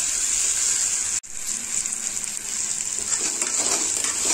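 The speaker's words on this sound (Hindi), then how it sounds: "हमने उबले हुए आलू 1 पिंड लिए थे, 750 ग्राम हमने छोटे छोटे टुकड़ों में मसाले का फ्राई कर रहे हैं" About 750 grams of boiled potato pieces fry with spices in a pan, giving a steady bright hiss of sizzling oil, briefly cut off once, then continuing at moderate volume with no talking.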